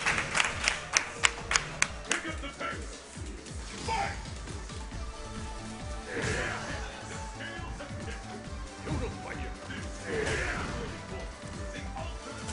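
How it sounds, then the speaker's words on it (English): A crowd at a fighting game tournament claps politely in a few scattered bursts, mixed with loud crowd noise and game action, while people talk over it. "You guys don't like the golf claps?"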